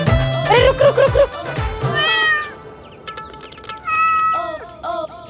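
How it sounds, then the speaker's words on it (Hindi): A cat meows loudly and repeatedly, several drawn-out, wavering cries close by with short pauses between them, some fainter calls following, and no talking over it. "बिल्ली रास्ता काट गई थी।"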